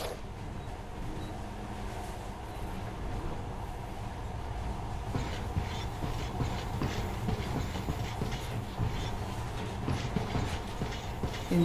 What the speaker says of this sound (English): In the past, trains were ordinary things. But now, this monorail seems magic, doesn't it?